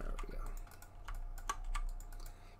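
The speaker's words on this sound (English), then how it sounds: "Just using the left and right arrow keys and the G key" Arrow keys and the G key tapped on a computer keyboard, a string of light, quick clicks at irregular intervals over a low steady hum.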